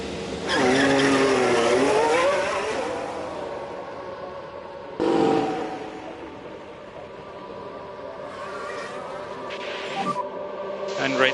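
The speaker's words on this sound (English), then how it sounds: "let's get a car out on the track for its first run" An F1 race car in a video game leaves the garage for a first qualifying run, its engine whining up and down through gear changes, loud at first and then easing, with voices talking over it.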